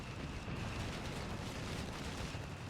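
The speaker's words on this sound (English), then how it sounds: "Artillery coming down somewhere." Artillery barrage explosions in the Company of Heroes 3 video game, a dense, continuous rumble of overlapping booms and blasts that stays loud and steady throughout with no talk.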